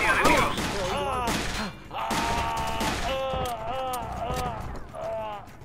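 Gunfire erupts in Tom Clancy's Rainbow Six Vegas, a few sharp bursts scattered through the moment beneath excited shouting players who talk almost continuously over the shots.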